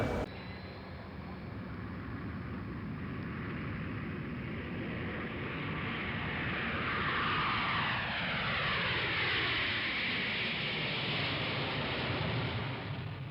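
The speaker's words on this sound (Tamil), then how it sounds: "ஸோ ஏற போகிறோம் ஃப்ளைட்டு." Airplane engines roar steadily aboard an Oman Air flight, a broad continuous rushing drone with a slowly shifting pitch sweep, loud and close.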